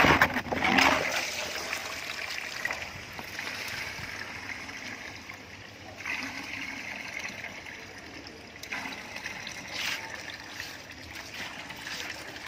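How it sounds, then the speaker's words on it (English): Steady rushing creek water from a ram pump pipe splashes and trickles continuously into a bucket, with brief louder gushes throughout. "You can see the water coming out."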